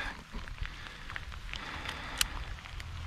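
Steady rain patters on a pond and the surrounding ground while out bass fishing, a continuous soft hiss with scattered louder drop taps, fairly close and with no talking.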